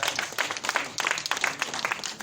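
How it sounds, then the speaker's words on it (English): An audience at a Niger Delta Development Commission event in Cross River State gives a brief round of applause, dense steady clapping heard at a moderate distance. "Can we give him a round of applause,"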